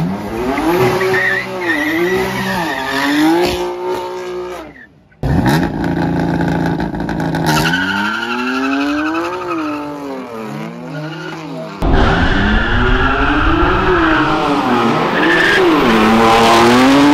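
BMW M3 cars skid through a street race, with continuous loud engine roar and rising, falling tire squeal in long sweeping waves, a brief dropout near the middle, then another harsh skid surging up close.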